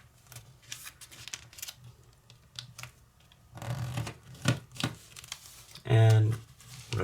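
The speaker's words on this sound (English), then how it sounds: "now fold this flap up so that it's even with this edge" Paper flaps being folded and creased for an origami squishy ball, close crinkling and rustling with sharp crackles, accompanied by a person speaking.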